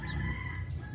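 Island Red chickens in the Philippines clucking and crowing nearby, a brief dense burst of fowl calls over a steady hum.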